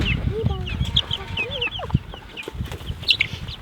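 Chickens cluck and chirp close by in a busy, overlapping chorus, with scuffling and movement beneath the calls.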